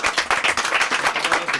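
Theatre audience at a mentalist stage show applauding as a volunteer comes up, loud, close, fast clapping throughout the short burst.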